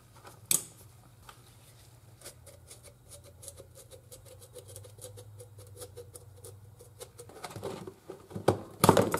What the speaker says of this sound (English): This is why we use these specialty tools for cutting filters apart.